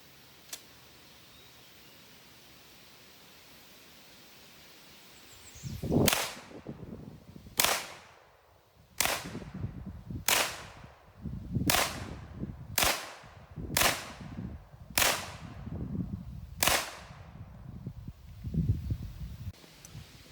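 A Hi Point 995TS 9mm carbine fires full metal jacket reloads outdoors: about nine sharp, loud shots spaced roughly a second or two apart, each with a quick echoing tail.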